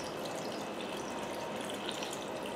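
Cooking liquid from shrimp, with the shells still in it, is poured into a bowl, making a continuous, even splashing gush that stays steady throughout, with no voices.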